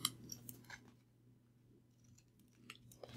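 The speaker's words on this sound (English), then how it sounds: "And I can just grab my scissors" Scissors trimming excess paper from a scalloped piece for a handmade card, a few quiet close snips and crisp clicks in a hushed room.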